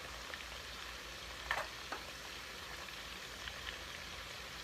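Cut-up pieces frying in hot oil, a continuous faint crackle and sizzle with a couple of brief spatters, no talking.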